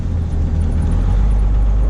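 Straight-piped 12 valve Cummins diesel truck rumbles loudly and close, a deep steady exhaust drone with turbo whoosh building slightly toward the end, no voices.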